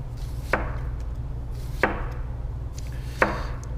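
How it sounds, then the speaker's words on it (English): A knife slices an onion on a cutting board in three crisp, evenly spaced chops over a low steady background hum, close and clear with no voices. "Slicing our onion."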